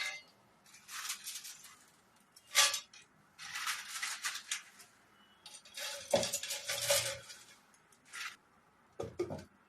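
Dried tomato pieces tipped into a dry steel grinder jar, giving scattered rattles, clinks and rustling bursts in irregular clusters, fairly close and separated by short quiet gaps.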